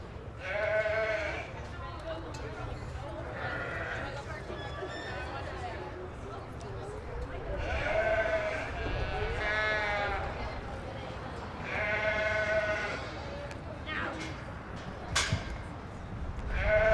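Sheep bleat repeatedly at a breeding sheep show in a livestock show barn, the wavering calls of several animals overlapping against steady crowd noise and talk from people nearby.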